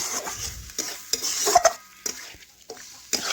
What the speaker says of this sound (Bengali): এখন চিকেনও ভালোভাবে নাড়াচাড়া করে মশলার সাথে মিশিয়ে নেব